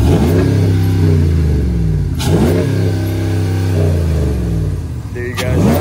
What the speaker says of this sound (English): See if my wife can give a couple revs.